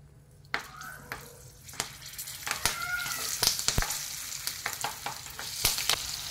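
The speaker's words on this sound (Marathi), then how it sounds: "आता या स्टफ केलेल्या ज्या मिरच्या आहेत त्या आपण तेलात ठेवून द्यायच्या आहेत।" Stuffed green chillies sizzle and spit as they fry in turmeric-spiced oil, a close, steady crackle broken by sharp pops and occasional clatters of handling.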